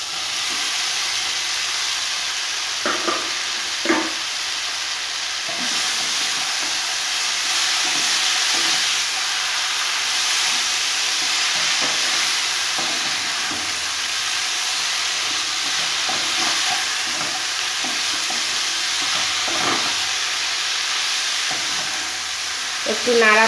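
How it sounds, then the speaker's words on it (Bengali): Boiled cabbage sizzles steadily as it is stir-fried with spices in a hot pan for a shrimp and cabbage ghonto, with occasional scrapes and clinks of the spoon stirring close by. "যে মশলাগুলো আমি দিয়েছিলাম আগে সেই মশলাগুলোর সাথে বাঁধাকপিটাকে একটু নাড়িয়ে কষিয়ে নিতে হবে।"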